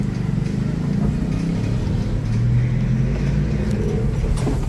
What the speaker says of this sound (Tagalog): Ay, may sasakyan sa likod. Hindi makapasok.